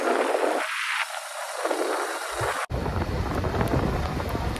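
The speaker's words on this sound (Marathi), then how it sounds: "पाऊस पण जोरात येत आहे" Heavy monsoon rain pours down during a Ganpati festival visit, a dense, loud, steady hiss with a brief cut partway through before the downpour continues.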